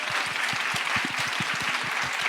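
An audience claps in a brief burst of dense, steady applause at moderate volume, with no voices over it.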